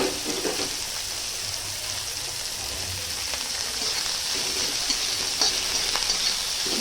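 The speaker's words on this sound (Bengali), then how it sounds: "ভালো করে এটা নাড়বো, খুব ভালো করে লাল লাল করে নাড়ার কোনো দরকার নেই, জাস্ট হালকা করে নাড়বো।" Chopped green chilies, onion and curry leaves sizzle steadily in a pan of hot oil for poha, with a soft spatula stirring through them; the frying hiss stays close and even throughout, with no voices.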